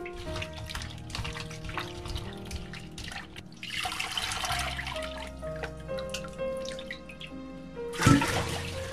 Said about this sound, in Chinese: 最后再把泡水的苦瓜沥干水分，捞出来